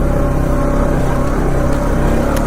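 A 2020 Honda Rancher 4x4 ATV engine drones loud and close while riding and shifting gears, with a steady hum and slight changes in pitch and no talk.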